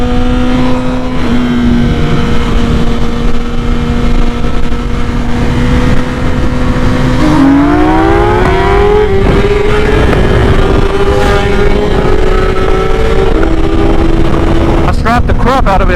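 A motorcycle on a test ride revs hard and accelerates, its loud engine tone climbing and shifting through gears close by, with a steady roar throughout and a rider's voice faintly over it.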